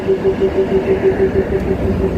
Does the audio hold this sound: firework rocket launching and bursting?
no